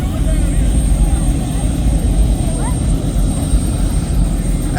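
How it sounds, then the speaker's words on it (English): Aircraft engines roar loudly and steadily at an airport just after landing, a dense, continuous rumble that holds throughout. "So he just landed the airplane."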